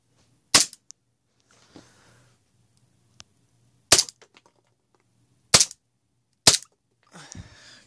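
A KWA TT33 airsoft pistol fires single sharp cracks, four main shots at uneven intervals with a few softer clicks and handling noises between them, close and loud against near silence.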